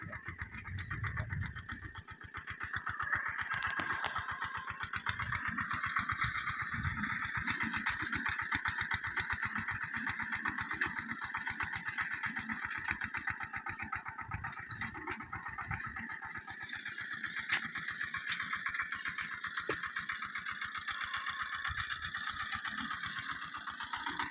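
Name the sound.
tractor engine running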